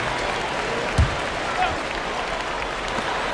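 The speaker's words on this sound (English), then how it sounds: "Come on and get loud right now, fans. It's time to cheer on your Clippers." A steady crowd roar fills the background throughout, with a brief louder swell and a commentator talking over it, in the basketball video game NBA 2K26.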